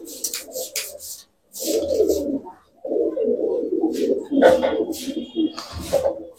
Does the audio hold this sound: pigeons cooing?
yes